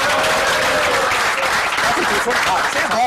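Studio audience applause during an Algerian comedy show, a steady dense clatter of many hands filling the whole stretch, loud and close with voices faintly mixed in.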